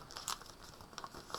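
Origami paper folded by hand while making an origami frog, soft crinkling and papery rustles with a few crisper creases, close and quiet with no talk.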